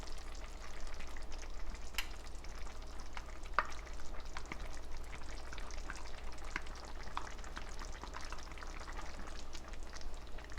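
A sausage gnocchi sauce with tomato sauce simmers quietly in a pan, a soft continuous bubbling hiss with scattered faint pops and ticks, low and steady throughout.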